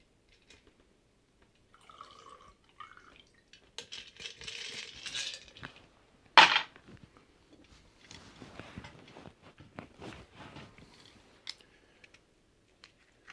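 A Sazerac cocktail is strained into a prepared glass: soft liquid trickling and dripping with a few light clicks and one sharp clink, close and quiet.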